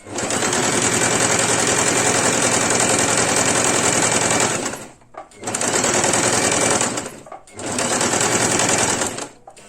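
A sewing machine stitching patchwork strips runs loud and close in three bursts of rapid, steady needle chatter, separated by two brief pauses.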